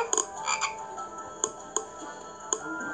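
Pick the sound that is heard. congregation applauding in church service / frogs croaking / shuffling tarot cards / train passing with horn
frogs croaking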